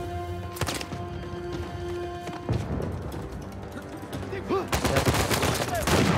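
Shotgun blasts and other gunfire crack through a tense firefight in the video game Uncharted 4, several sharp close bursts over a humming game soundtrack, heaviest toward the end.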